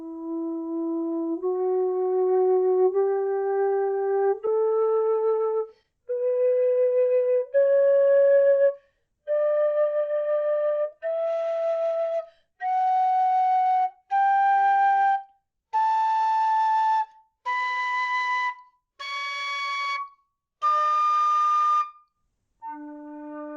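A Reeves aluminium low D Irish whistle plays a slow series of clear, sustained single notes climbing step by step up the scale, each separated by a short pause, ending on a low note, with no talking.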